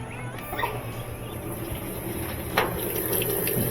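Cold water rushes steadily into a GE washing machine with a low mechanical hum underneath and a brief clack midway, continuous and close.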